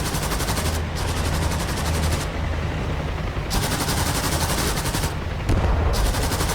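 Sustained rattling automatic gunfire from infantry in a UH-1H Huey helicopter flight simulator game, dense and continuous over a steady rotor-like drone, loud throughout with no talking.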